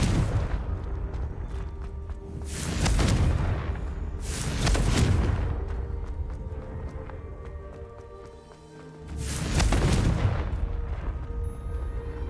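Confringo blasting spells in Hogwarts Legacy burst as three loud, booming explosions spaced a few seconds apart, each swelling and fading over a rumbling game background.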